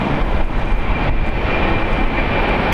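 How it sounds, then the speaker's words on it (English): A JetBlue Airways Airbus A321 jet thunders close by in a loud, dense, continuous engine roar with no speech. "JetBlue Airways flight 324 going to JFK. It's an Airbus A321, 7 years old."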